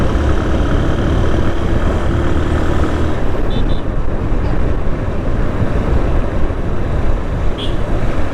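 A motorbike rides along a road, giving a loud, continuous engine drone mixed with rushing wind noise and no clear breaks.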